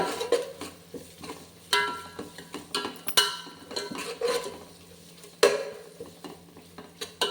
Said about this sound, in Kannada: ನೀಟಾಗಿ ಇದನ್ನು ಫ್ರೈ ಮಾಡ್ಕೊಳ್ಳೋಣ